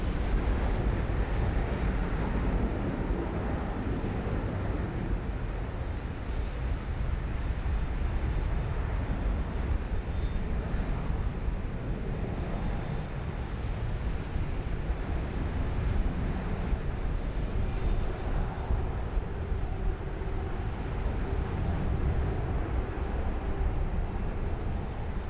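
A Qantas jet airliner departs Sydney Airport with a broad, continuous roar that holds steady, loud and close, with wind buffeting the microphone.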